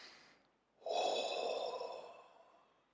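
One long, deep inhalation fills the lungs during a breathing exercise for calming anger, steady and close, lasting about two seconds before easing off.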